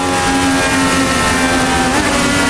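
Several race cars drone loudly and continuously at night on an oval in an IndyCar video game, their engine tones holding steady with a slight shift near the end.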